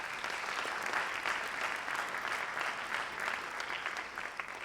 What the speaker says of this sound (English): let's give Stephen Matloff a round of applause.